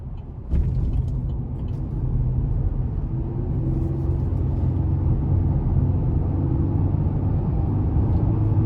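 A 2021 Chevy Colorado WT pickup with the 3.6-liter V6 and 4WD cruising along, its engine and road rumble steady and close from start to finish with no talk over it.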